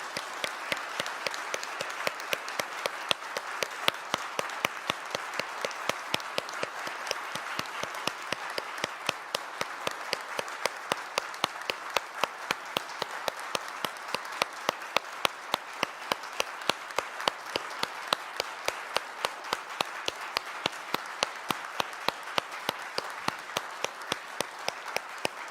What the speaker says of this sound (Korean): 우리 김영우 목사님 네 분에게 여러분 큰 박수를 한번 격려해 주시면 감사하겠습니다